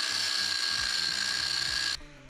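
An angle grinder cuts through steel rebar in a loud, steady, high-pitched whine that runs without a break for about two seconds, then cuts off abruptly as the disc winds down.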